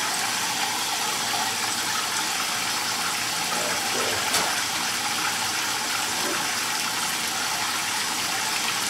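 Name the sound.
tap water running to warm up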